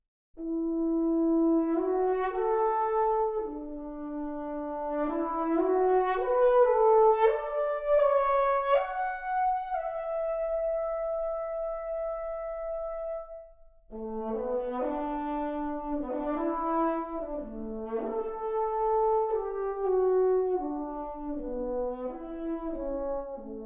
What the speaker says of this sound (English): the other patch I really like from this library is the Horn Solo True Legato